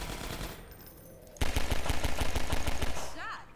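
Enemy gunfire in Half-Life 2 Episode One: after a quieter stretch, rapid automatic bursts erupt, loud and close, a dense rattling volley that runs steadily for about two seconds before easing off.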